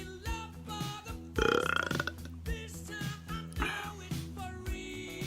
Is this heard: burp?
yes